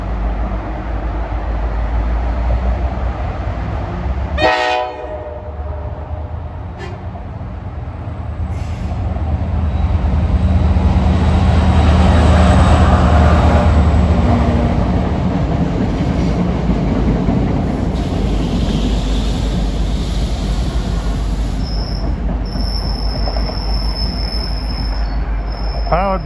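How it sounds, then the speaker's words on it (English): An NJ Transit train bound for Hackettstown arrives with wheels squealing sharply on the rails, over a steady low rumble of cars rolling past and brief high-pitched screeches near the end. "Here comes train 880 for Hackettstown at 6:18."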